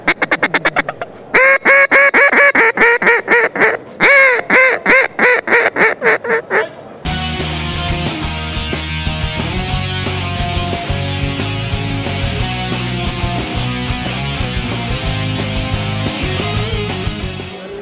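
A Flextone Supernatural timber-type duck call with a rubber double reed blows a loud series of raspy quacks alone, a rapid descending run of calls, before a dense music-like bed takes over the second half.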